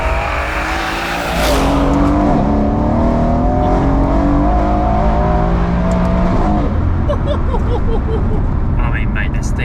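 An 830bhp Mercedes C63 AMG engine revs loudly and pulls hard, its rising and falling tones carrying over road noise, with a sharp burst near the start and steady acceleration through the middle.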